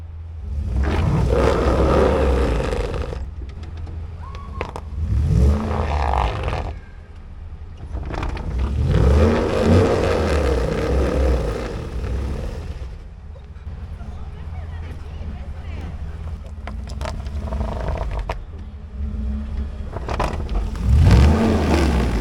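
A Ford vehicle's engine rumbles and revs in low, loud surges while driving onto Bunker Indust traction boards off-road, with people talking over it at intervals.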